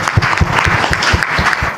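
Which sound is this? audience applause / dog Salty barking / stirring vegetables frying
audience applause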